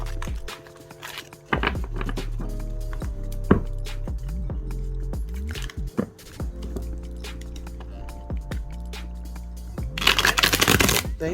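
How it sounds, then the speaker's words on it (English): Tarot cards from a One World Tarot deck with a silky feel are shuffled by hand in a close, loud riffling run, with repeated bursts of card flutter and soft slaps over a low steady hum. "Okay, so I'm gonna shuffle them."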